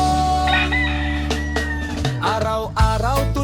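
A fighting rooster on a farm crows loudly several times in succession, nearby and clear, with clucking fowl and other farm sounds around it.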